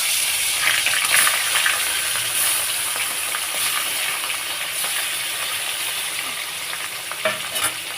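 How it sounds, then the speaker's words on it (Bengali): Fish coated in mustard oil frying in hot oil in a wok, a steady, dense sizzle throughout with occasional stirring clinks and sharper crackles, close and loud with no talking. "কড়াই তেল দিয়েছি গরম হয়ে গেছে এবারে আমি মাছগুলো ভাজবো"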